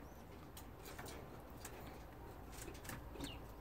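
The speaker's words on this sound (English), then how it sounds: "They're really lively birds. Get a bit of squabbling amongst them" Young Mosaic agate opal canaries that have recently fledged call and squabble in a cage, giving faint, scattered chirps and short calls over a soft, steady background.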